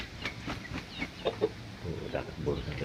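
Backyard chickens cluck in short scattered bursts while pecking at feed, the calls fairly close and moderate in level over a low rustling background.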